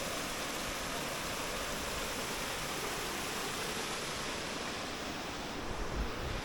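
A waterfall beside outdoor picnic tables sends a constant broadband rush of falling water, steady and even throughout with no voices.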